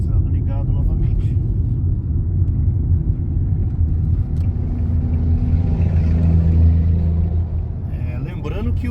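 A 2017/18 Toyota Etios Sedan 1.5 cruises on a highway with two people aboard and the air conditioning on, giving a steady, loud low road and engine drone inside the cabin that stays even throughout.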